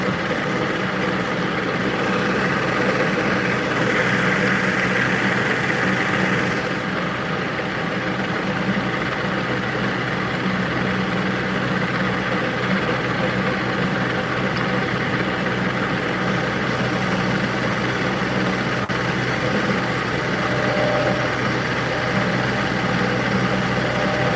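A engine idling too fast at around 960 RPM, a steady mid-to-low drone that holds even throughout with a slight change in tone partway, close and unaccompanied by speech.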